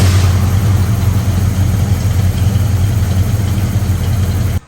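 A Ford Mustang 302 V8 with Holley Sniper EFI, in a 1966 Mustang, idles loudly and close with a deep, steady, lumpy rumble that holds for several seconds and then cuts off abruptly.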